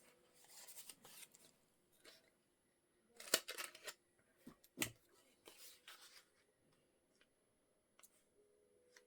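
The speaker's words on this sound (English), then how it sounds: "I'll just trim it off of this side." Scissors snip through a paper seed packet close by, a few sharp crisp cuts clustered mid-clip amid soft paper rustling and handling, otherwise quiet.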